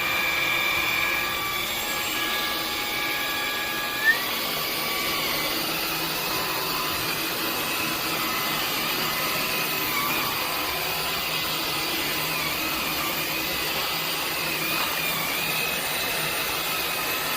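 A Dreame H12S cordless wet-dry vacuum cleaner runs steadily with a loud, continuous motor whine and airflow hiss, holding one even level for the whole stretch with no talk.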